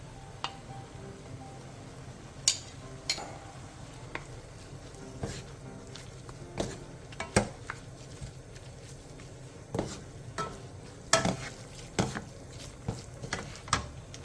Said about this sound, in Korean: 전분물 3스푼을 넣고 다시 한번 볶아 녹진하게